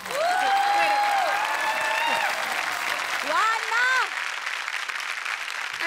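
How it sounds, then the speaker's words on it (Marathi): Studio audience at a Marathi comedy show bursts into sustained applause with whoops and whistles. It stays loud and dense, then eases slightly near the end. "प्लीज टाळ्यांचा वर्षाव करा."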